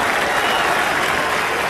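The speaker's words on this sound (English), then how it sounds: "that huge cheer that is coming up from the crowd now marks the fact that the march has begun" A large crowd in a Paris street at the start of a march, roaring and clapping in one dense, loud, continuous wash of sound.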